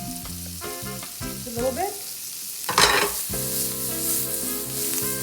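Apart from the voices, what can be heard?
shallots and garlic sauteing in butter and oil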